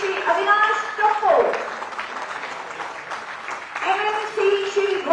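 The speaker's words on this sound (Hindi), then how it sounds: "तालियां जबरदस्त और जोरदार।" An audience claps steadily at a government ceremony in Ranchi where training officers receive appointment letters, with an announcer speaking over the applause.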